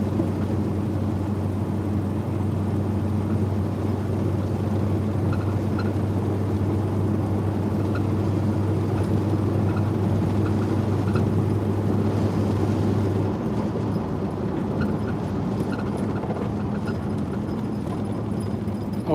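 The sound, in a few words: car test drive after rebuilding its 700 transmission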